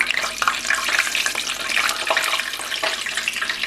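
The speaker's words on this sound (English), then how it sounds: "Just put some drops of water in there. Just see how it bubbled up." Drops of water hitting hot frying oil for fried pickles burst into a steady, close crackling sizzle, with dense bright spattering that continues without pause and no talking.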